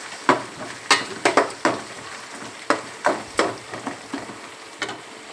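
Onions sautéing in a pan for a fish curry, with a low sizzle under a series of sharp utensil scrapes and knocks against the pan that come irregularly, close and clear, with no talk.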